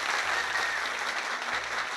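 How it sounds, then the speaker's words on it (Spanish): Applause for the New York Yankees fills the space as a dense, even wash of clapping at moderate level, unbroken and with no voices over it. "Otro aplauso para los Yankees de Nueva York."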